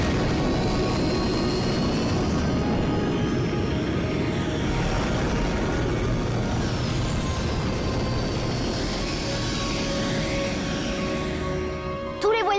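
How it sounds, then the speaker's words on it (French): A cartoon vehicle lifting off in Code Lyoko, a sustained rising whoosh and engine roar with swirling tones, loud and continuous before cutting off near the end. "Décollage."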